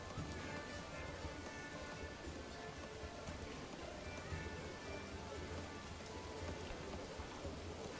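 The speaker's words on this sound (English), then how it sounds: "Man, that's a lot of rain, dude." Heavy rain pours continuously in the medieval city-building video game Manor Lords, a dense, even hiss of drops at constant loudness with no breaks.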